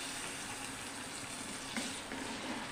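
Green chillies with crushed ginger and garlic frying in a pan for a lobia bean curry, a soft steady sizzle with a couple of louder crackles and stirring scrapes, no talk.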